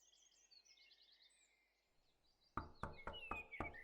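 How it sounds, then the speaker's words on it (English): Knocking on a shop door in the video game Sips and Sonnets: five sharp, evenly spaced raps arrive after a quiet stretch of faint birdsong ambience, close and loud. "What she did not expect to hear, however, was a knock."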